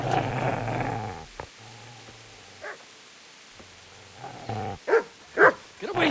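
Dog growling and barking in the medieval video game Kingdom Come: Deliverance, low snarls followed by a few louder, sharper barks near the end.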